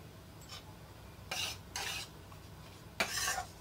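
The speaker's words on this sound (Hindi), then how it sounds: "मीडियम फ्लेम पे ही हम इसको चलाते हुए फ्राई करेंगे" Laddu mixture being stirred and fried in a kadhai over a medium flame: three or four bursts of scraping from a spoon against the pan, separated by quiet gaps, close up and with no voices.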